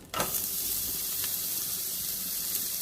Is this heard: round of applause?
no